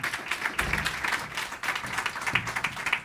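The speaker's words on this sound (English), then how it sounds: "Big round of applause, everyone." Audience applause at a climate week talk welcoming author Bill McKibben and Anna Lappé, a steady, somewhat distant patter of many hands, moderately quiet and continuous.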